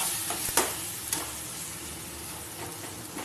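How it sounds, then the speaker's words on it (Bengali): Brinjal bharta mixture being stirred in a pan over a little oil, with a steady faint sizzle, two sharp spoon-scrape clicks near the start and a few softer scrapes later. "দিয়ে এবার কিছুক্ষণ একটু নেড়ে নেবো। এইভাবে ঠিক নাড়িয়ে নেবো।"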